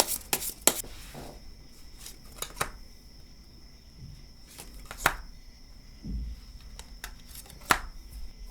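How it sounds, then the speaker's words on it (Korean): Tarot cards being shuffled and drawn, heard as sparse, close snaps and papery flicks with quiet handling noise in between and no speech. "추가 카드를 그래서 이분이 연락을 먼저 하실지 시기는 어느 정도일지 뽑아보도록 할게요"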